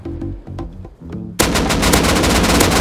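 Rapid gunfire in the survival game Rust: a burst of separate shots opens, then a dense, loud stretch of continuous automatic fire and sustained shooting fills the rest.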